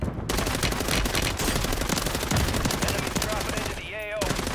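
Machine gun fire in a Warzone match, a fast continuous rattle of shots right up close and loud that runs almost nonstop, pausing briefly near the end.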